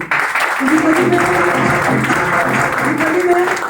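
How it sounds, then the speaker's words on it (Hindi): Audience clapping at a motivational business seminar, a steady wash of applause with a voice talking over it, likely the presenter speaking through the clapping. "जोरदार ताली होना चाहिए"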